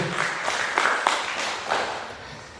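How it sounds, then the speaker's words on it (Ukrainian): An audience applauds in a burst of clapping with a few louder peaks, moderately close, tapering off over a couple of seconds, with no talk over it. "Давайте оплесками подякуємо за наш захист"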